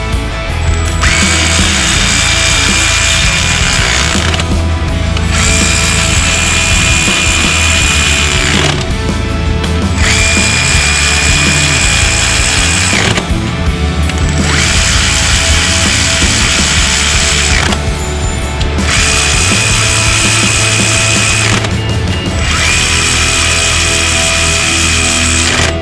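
A Mac cordless ratchet runs while tightening, giving a loud, close, steady motor whine broken into about six long runs separated by brief pauses, with a grinding mechanical undertone throughout.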